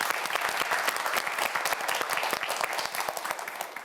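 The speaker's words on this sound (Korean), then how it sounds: "우리 장현빈 학생에게 2라운드 마지막 문제까지 최선을 다해 달라고 다시 한번 박수 한번 보내주세요" A studio audience at a TV quiz show claps for a student contestant, a close, lively burst of many distinct handclaps that holds steady and fades slightly at the end.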